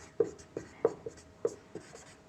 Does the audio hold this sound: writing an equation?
yes